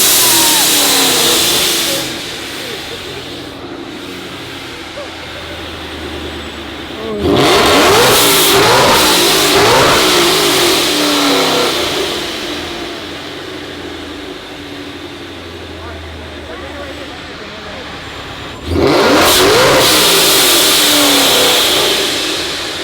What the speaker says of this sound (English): When he revs it, it's so loud.